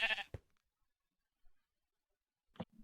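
A sheep bleats in the Minecraft Tekkit video game, one short bleat at the start and another near the end, separated by near silence and a faint blip.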